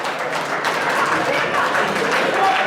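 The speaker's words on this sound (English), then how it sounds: "hearing the claps from the crowd." A crowd at a wrestling match claps together, a dense patter of many hands filling the arena, with a commentator's voice faintly running beneath.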